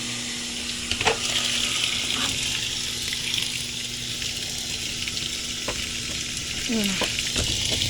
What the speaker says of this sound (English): See, a little bit of water gets in the tub. It's going to fill to a medium load.